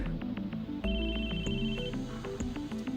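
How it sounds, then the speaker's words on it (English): A phone rings in the visual novel game Chaos;Head NoAH, a repeating electronic ringtone melody of bright tonal beeps over low game music, with no voices. "I started in fright as my phone suddenly rang."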